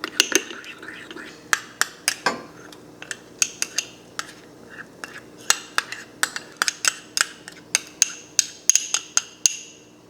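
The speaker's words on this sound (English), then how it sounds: "There's all of the sauce, and I'm just going to whisk it in." A whisk clinks rapidly against a metal pot while mixing miso sauce, a close series of sharp metallic taps in an uneven rhythm, with faint background noise between strikes.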